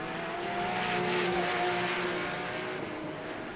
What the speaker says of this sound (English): these cars are a bit noisy, Conrad, compared to your Jetta.